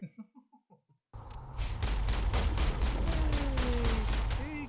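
Sustained automatic gunfire in the Mass Effect video game, a dense run of rapid shots with whooshing energy effects, loud and close, following a short spoken line from a game character.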